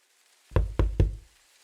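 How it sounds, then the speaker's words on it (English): Three polite knocks on temple doors in Grimshire, evenly spaced, heavy and close, each a dull thud in otherwise near silence. "A polite knock on the temple doors."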